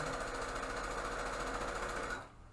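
A sewing machine stitches fabric for a child's face mask, a dense, steady mechanical whir running loud and continuous before stopping abruptly near the end.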